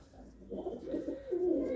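Blue pigeons cooing at close range, a soft low throaty warble rising in a few short swells, quiet and alone.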